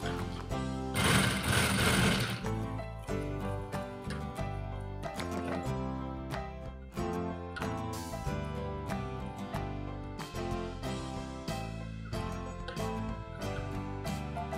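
A sewing machine stitches piping on a dress in quick mechanical bursts of needle clatter with short stops between runs, close and fairly loud, with a brief noisy rustle near the start.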